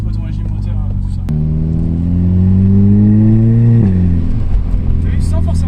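Audi quattro with a stage 1 tune at 230 hp, its engine note rising and falling in a deep revving drone that climbs steadily then drops back, heard loud and close inside the car while people talk over it.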